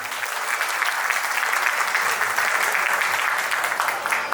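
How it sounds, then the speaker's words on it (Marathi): An audience gives Yogesh loud, sustained applause at a stage event, a dense wash of clapping that fills the room evenly without pause. "जोरदार टाळ्या योगेशसाठी वाजवूया आपण"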